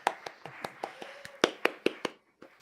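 A small symposium audience claps, with sparse, distinct hand claps from a few people in an irregular rhythm, fairly close and quiet overall, thinning out and briefly pausing near the end.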